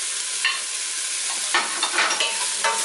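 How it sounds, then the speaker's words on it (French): Bourguignon vegetables (carrot, onions, mushroom stems, bouquet garni) and lardons stirred in a pot, a close sizzle broken by several scraping strokes of the spoon, no voices. "Voilà, je remue comme ça."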